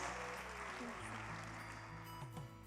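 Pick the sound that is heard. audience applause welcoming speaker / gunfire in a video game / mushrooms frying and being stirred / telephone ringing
audience applause welcoming speaker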